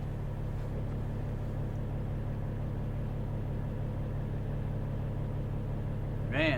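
Big farm tractors roll past as a steady low diesel rumble at moderate distance, fairly quiet and continuous, with a brief louder burst right at the end.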